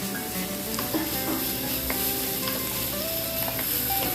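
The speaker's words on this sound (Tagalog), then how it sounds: "Maglagay lang tayo ng konting mantika sa kawali at igisa ang ating bawang" Garlic and ginger sautéing in a little oil in a pan, a steady close sizzle and crackle with occasional clinks of a utensil stirring, no voices.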